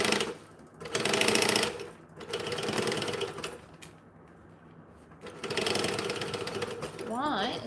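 A sewing machine stitches near the edge of fabric in several loud, buzzing bursts separated by short pauses, with a voice talking over parts of it.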